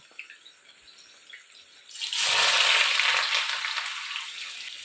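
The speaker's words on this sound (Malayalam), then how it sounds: "സവാള എല്ലാം വറുത്തെടുക്കുവാണേ." Onions fried in chicken oil burst into a loud, bright sizzle about two seconds in, after a quiet start, then hiss steadily without any voices.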